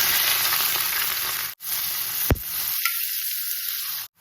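Onions, mustard seeds and curry leaves fry in hot oil with a steady, loud sizzle. The sizzle cuts out briefly twice, and one sharp clack lands partway through.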